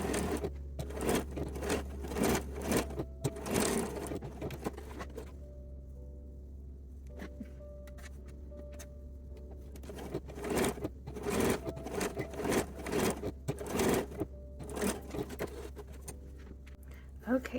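A domestic sewing machine bastes picot trim onto the sides of a front center lingerie panel. It runs in bursts of fast rhythmic stitching with a quieter pause in the middle, close and steady over a low hum.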